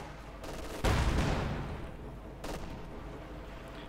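Gunfire from a Company of Heroes 2 real-time strategy battle: a loud burst of shots opens, then a brief crackle of fire partway through, all under a commentator's continuous talk.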